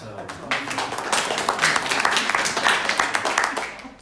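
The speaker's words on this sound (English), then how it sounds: "you're applauding in gratitude to Stephen Hawking" An audience at a science talk bursts into applause. The clapping swells within the first half second and stays dense and steady, then fades near the end.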